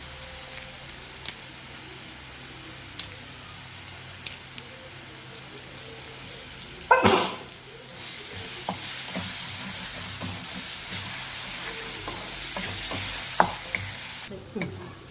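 Curry leaves drop into hot oil for jackfruit seed stir-fry, giving a sudden burst of crackle that settles into a steady hiss with occasional stirring scrapes, close and fairly quiet.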